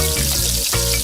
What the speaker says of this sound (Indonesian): lelenya pas digoreng langsung ngejerojos